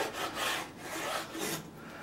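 A knife cuts sheep tail fat into thin slices for an Uzbek dish, three or four close rasping strokes in quick succession, with no voices.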